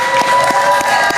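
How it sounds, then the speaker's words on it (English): A live crowd at a Christmas-themed stand-up gathering claps steadily, a dense wash of applause with a few sharper individual claps standing out, loud and close with no talk over it. "We're gonna clap for Christmas."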